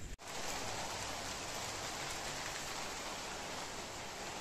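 Heavy unseasonal rain pouring outside at night in Nashik during a storm with lightning and strong wind, a steady dense hiss of downpour on surfaces after a brief dip at the start, no voices.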